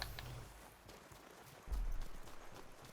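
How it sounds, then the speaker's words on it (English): Hooves of aether goats or rams patter and thud in a video game, soft and scattered, with a louder burst of clopping about halfway through as the animals run past nearby. "All these aether goats or rams running around."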